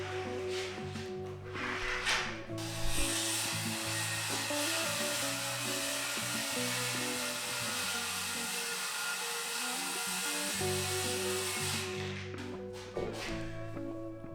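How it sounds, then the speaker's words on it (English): A power saw cuts the top layer of plywood that forms the inside floor of a small camper trailer, a loud steady whine running almost without a break for about ten seconds before stopping. "right now I'm just measuring and about to cut my top layer of plywood"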